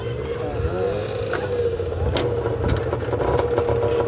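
A motorcycle engine running after being started during riding-permit lessons, a steady mid-pitched idle with a voice talking over it.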